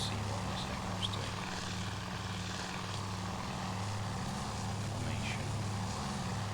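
Propeller aircraft engine in the naval warfare game Task Force Admiral drones steadily and evenly throughout, a continuous distant hum with faint speech in the background.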